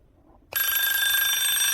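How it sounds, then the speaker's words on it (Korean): A red direct-line hotline telephone on a bank branch manager's desk bursts into loud, continuous bell ringing after a moment of near silence, with no talking. "창구 안쪽 지점장의 자리에 놓인 빨간색 직통 전화기가 미친 듯이 비명을 지르기 시작했습니다"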